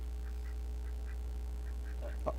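A duck quacking sound effect, several soft quacks in a loose sequence over a constant low electrical hum, with a slightly louder quack at the end.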